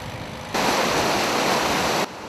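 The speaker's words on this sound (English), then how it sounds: "water is flowing very quickly at Riverside Park in southeast Swift Current" Fast-flowing river water at Riverside Park in southeast Swift Current rushes in a dense, steady roar that swells louder for a stretch in the middle, then drops back to a softer wash.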